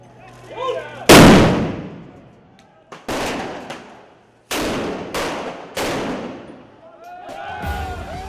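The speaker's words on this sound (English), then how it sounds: "Israeli troops fired tear gas at angry protesters." Israeli troops fire tear gas at protesters in a street clash, with several loud, sharp blasts echoing one after another and a rumbling crowd between them.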